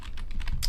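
Quick, even keystrokes clatter on a computer keyboard, a short burst of close, crisp taps over a low room rumble.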